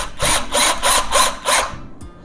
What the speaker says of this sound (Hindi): तो वो ये सेल्फ ड्रिलिंग स्क्रू है, ये अपने आप ही होल डाल देगा यहाँ पे।